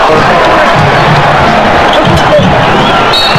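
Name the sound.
crowd roaring applause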